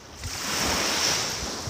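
Ocean waves break on a shore in a soft, continuous wash of surf that swells and fades, mixed with wind noise on the microphone and no talking.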